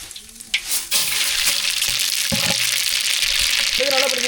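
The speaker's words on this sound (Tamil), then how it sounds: "சூடாகிடுச்சு கடுகு சேர்த்துக்கலாம்" Mustard seeds dropped into hot oil burst into a sharp sputtering sizzle after a quiet start, with crackles and pops continuing steadily and light utensil knocks, heard up close.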